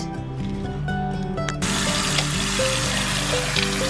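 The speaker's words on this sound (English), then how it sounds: "Cleaning the potatoes, and then add them into salted water." Tap water gushes in a steady, fairly loud stream as potatoes are washed beneath it, starting suddenly and continuing under light background music.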